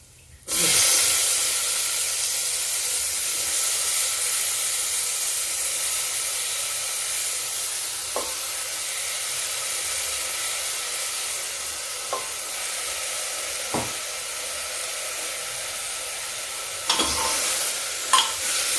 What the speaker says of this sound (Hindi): लहसुन प्याज भून रहा